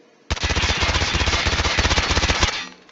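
QQ9 submachine gun firing in the Call of Duty Mobile training ground: one loud, unbroken automatic burst of rapid shots that lasts a bit over two seconds and then cuts off, with no talk over it.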